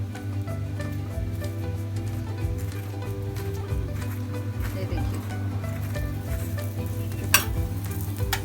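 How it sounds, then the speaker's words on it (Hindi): Corn flour (makki) paratha sizzling with ghee on a hot pan, a steady close crackle running throughout with faint background hum and a sharp clink near the end. "इस पर हम असली घी लगाएंगे"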